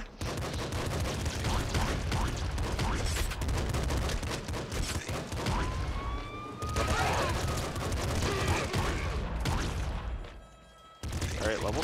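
Dense, continuous gunfire from the Nuclear Throne co-op game, rapid overlapping shots with booming hits running almost nonstop, dropping out briefly near the end before resuming, with game sound effects layered in.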